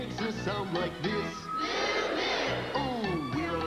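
A large concert crowd gives a drawn-out, full-throated cow moo imitation between sung lines, loud and sustained for about a second, with singing on either side.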